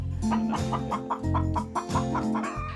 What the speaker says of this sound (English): So I'm raising chickens for eggs